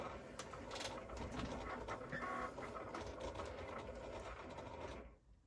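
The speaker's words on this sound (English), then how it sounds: "Time for some Cricut ASMR." A Cricut cutting machine slices through a stack of stickers, giving a steady close mechanical whir with faint clicking and ratcheting motor movement that continues throughout, then cuts off abruptly near the end.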